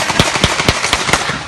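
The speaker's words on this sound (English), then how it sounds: "People panic, running for cover in the smoke-filled streets as the sound of gunshots ring out" Gunshots during a street riot answering a deadly officer-involved shooting, with rapid sharp cracks roughly every quarter second, loud and close, over a constant roar of crowd and street noise.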